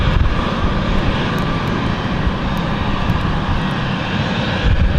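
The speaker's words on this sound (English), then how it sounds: "fourth KLM flight, heading out. This is the E190 STD, heading off obviously to Amsterdam." A KLM Embraer E190 jet departing London City airport gives a loud, continuous engine roar that stays near and steady, with broadband rumble and no voices.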